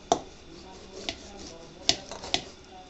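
A knife cuts through grilled fish at a village barbecue, giving a handful of sharp, faint taps and clicks spaced irregularly against a quiet background.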